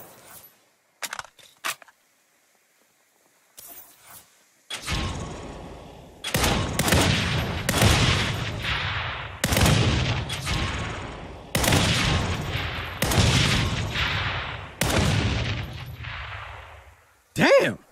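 Rapid bursts of gunfire in the Saints Row video game, several loud volleys fired one after another at close range, following a few sparse single shots.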